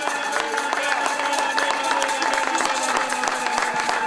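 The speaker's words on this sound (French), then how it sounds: "est-ce que tu peux donner une acclamation glorieuse?" A church congregation breaks into loud, sustained applause and acclamation, dense clapping mixed with crowd voices filling the room steadily throughout.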